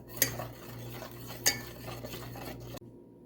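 A utensil scrapes and clinks around a pan while melted butter, sugar and milk are stirred over a medium flame, with two sharper metallic taps standing out from a soft steady rustle, close and fairly quiet, without talking.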